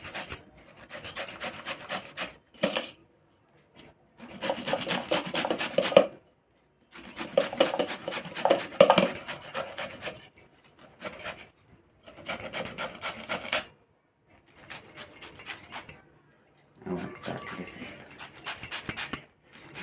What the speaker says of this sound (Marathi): मी अशी किसून घेणार आहे